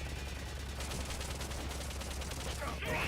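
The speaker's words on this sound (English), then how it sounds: "I forgot this one does the little missiles" Small missiles launching in Metal Gear Solid Peace Walker, a rapid burst of repeated firing thuds and crackles over a low steady rumble, with some speech in the background.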